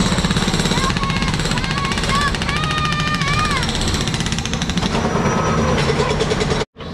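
A jackhammer breaking concrete pounds loudly and rapidly without pause, close by, with a harsh mechanical rattle and a brief cutoff near the end.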